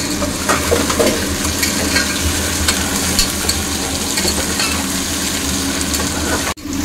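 Vegetables fry in a pan with a constant loud hiss, accompanied by scraping and clinking as they are stirred. The sound runs unbroken until it cuts off sharply near the end.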